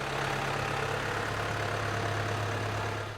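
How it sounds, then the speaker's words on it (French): A tractor engine idles at a family wine estate's grape harvest, giving a steady low diesel drone with an even, unbroken hum throughout and no voices. "À l'arrivée du tracteur"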